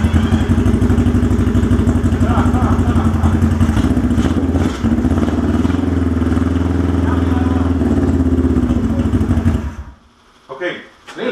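A Honda CB350 motorcycle engine firing up for the first time after a rebuild, running loud and close with a rough, throbbing idle and some rattling for about ten seconds before cutting out, followed by voices.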